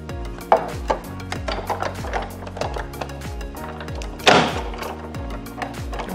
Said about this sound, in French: Donc en fait là je vais juste découper celui-ci tout d'abord.